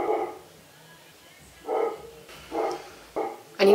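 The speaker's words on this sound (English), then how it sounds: "I need to text the family group chat to get the dog to be quiet." A dog barks indoors in short separate bursts, about five sharp yaps spaced unevenly, with quieter gaps between them.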